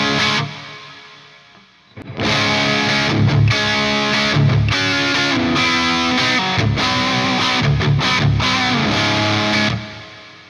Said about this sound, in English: now if we go to our echo plates, let's go to 5, which is a 480L